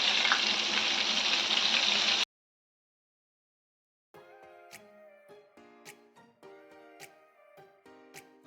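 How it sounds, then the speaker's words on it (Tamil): KFC-style chicken pieces fry loudly in hot oil with a dense, steady sizzle for about two seconds before it cuts off. A pause follows, then soft plucked music. "அதெல்லாம் எண்ணெயில் போட்டுடலாம்."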